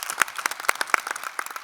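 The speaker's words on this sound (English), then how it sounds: "Let's give those filmmakers a little round of applause." Scattered applause from a small audience at a high-level panel on financing safe and sustainable transport systems, honoring filmmakers; a handful of distinct claps ring out unevenly at moderate distance, thin rather than a full ovation.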